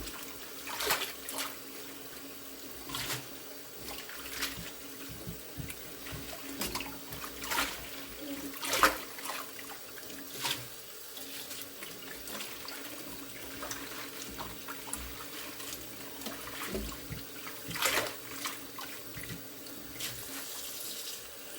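Tap water runs steadily into a kitchen sink while collard greens are washed, a continuous splashing flow with occasional louder surges and clatters.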